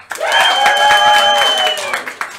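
Steady live game show audience applause and cheering fill the whole stretch, loud and continuous, tapering off toward the end.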